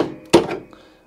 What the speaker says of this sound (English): with an hammer, just literally tap that all the way up